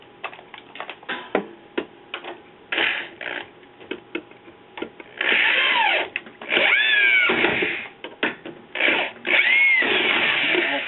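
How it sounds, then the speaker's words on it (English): Bursts of a power drill whirring in short and longer pulls, with rising and falling pitch between clicks and handling noises. "Grab the drill"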